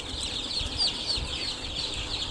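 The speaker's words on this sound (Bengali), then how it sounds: "দেশি মুরগির বাচ্চা, চীনা হাঁসের বাচ্চা, সব ধরনের বাচ্চাই আছে" Newly hatched local chicken and Chinese duck chicks peeping in a crowded batch, a dense high chorus of thin chirps over faint rustling, continuous and fairly close.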